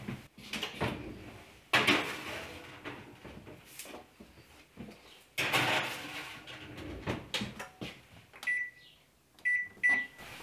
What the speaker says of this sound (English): Now that I have two trays ready to go in the oven, they'll go in again at 400 for about 8 to 10 minutes.